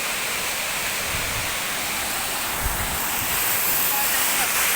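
Togonan Falls waterfall in Mainit, Surigao del Norte: a steady rushing roar of falling water, with wind buffeting the microphone and a couple of soft low thumps.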